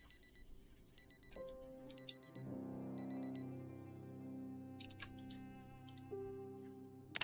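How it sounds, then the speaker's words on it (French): An electronic alarm clock in the video game Project Zomboid beeps in short repeated bursts, joined by a sustained musical tone and scattered clicks, all fairly quiet. "c'est laquelle qui a une alarme?"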